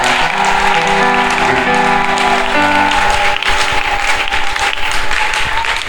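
Church congregation applauding loudly and continuously, dense clapping mixed with sustained musical tones and voices throughout, close and full.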